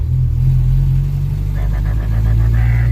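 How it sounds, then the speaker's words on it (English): A small car's engine idles and runs with a steady, low, tractor-like rumble, close and constant throughout, with no one talking. "it sounds like a little tractor engine"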